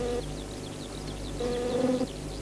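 Honeybees buzz inside a hive in a steady, dense drone, with a few louder wingbeat tones swelling up close near the end.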